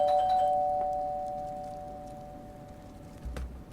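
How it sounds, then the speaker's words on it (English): A doorbell chimes in the horror video game Fears to Fathom, a single clear ding that rings out and slowly fades over a quiet, low room hum, with a faint thump near the end. "someone's ringing the doorbell"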